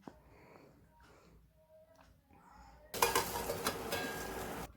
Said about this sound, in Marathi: भेंडी परतून घेऊन आपण त्याच्यावर एक दोन मिनटे झाकण ठेवूयात